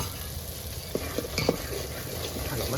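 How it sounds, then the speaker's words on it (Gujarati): Masala with turmeric, chilli and garlic frying in a pan while a spoon stirs it, a steady close sizzle with a few light scraping knocks from the stirring. "મરચું પાકી જાય ત્યાં સુધી હલાવવાનું છે"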